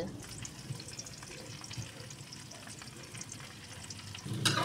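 Eggplant sautéing in a pan with garlic, onion and tomato, a steady close sizzle and frying crackle with light stirring throughout, slightly louder clatter at the end.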